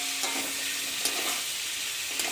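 A ginger, garlic and onion paste spice mix fries in a pan, sizzling steadily and close with a few brief stirring scrapes.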